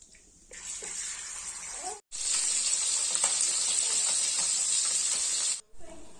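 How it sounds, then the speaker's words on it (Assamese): Fish rubbed with salt and turmeric sizzles and hisses steadily in hot oil, loud and continuous, broken by a brief pause before the frying resumes at full strength, with no talk over it. "ইয়াত এতিয়া মাছ ফ্ৰাই কৰি লওঁ"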